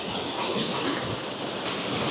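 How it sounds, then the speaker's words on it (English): A small waterfall cascading over rocks at Wessenden Reservoir gives a steady, broad rushing roar that stays constant and fairly loud throughout, heard alone. "obviously the star of the show is the waterfall"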